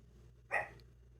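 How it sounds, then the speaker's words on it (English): A single dog bark, brief and moderately distant, rising out of a quiet room with a low steady hum beneath it, heard while someone twists wires together and fits a wire nut. "Never mind the dog barking."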